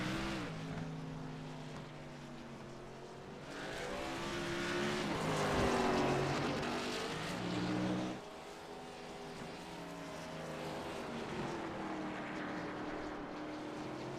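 Race car engine on the Mid-Ohio circuit through the S's, droning steadily with gear-change pitch sweeps as the driver eases the throttle, loud and continuous with no talk.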